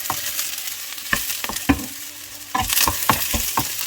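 Chili, onion and garlic frying in a pan for pork curry, a steady close sizzle broken by scattered clinks and scrapes of stirring, growing busier toward the end.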